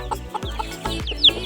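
A white hen clucks close by among her newly hatched chicks, giving a few short, throaty clucks with a thin chick peep near the end.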